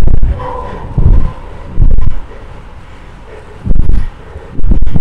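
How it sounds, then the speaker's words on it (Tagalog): Strong wind roars across the microphone while riding through a tunnel, the rider's voice coming in short bursts over a steady rushing background with passing vehicle noise. "Lakas ng hangin."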